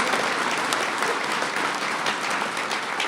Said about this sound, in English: So please give all those sponsors a round of applause